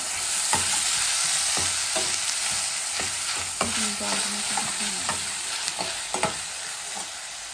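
Tomatoes sizzle and fry steadily in hot oil for a dal tempering while a utensil stirs, with intermittent scraping clicks against the pan.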